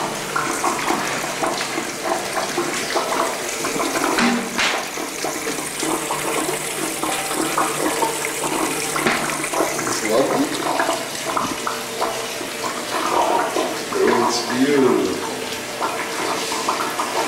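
Water runs steadily from a shower in a hotel bathroom in Southeast Asia, a continuous hiss and splash lasting several seconds, with some faint voices in the background.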